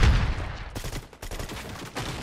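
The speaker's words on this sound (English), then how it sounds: "Hey, they're getting shot at." Bursts of rapid gunfire from the video game Reaching Unreal, sustained volleys of shots crackling back and forth without pause, loud and dense throughout.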